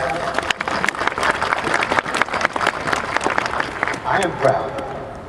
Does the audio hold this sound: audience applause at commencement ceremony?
yes